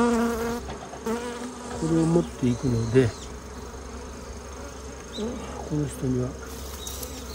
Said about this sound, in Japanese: 内勤蜂も一緒に入れてるかな